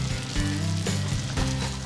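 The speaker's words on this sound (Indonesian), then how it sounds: "Untuk menggoreng bola-bola donat, pastikan minyak telah panas agar adonan bisa matang dan mengembang" Donut balls of dough fry in hot oil, giving a continuous close sizzle and bubbling crackle at a steady level throughout.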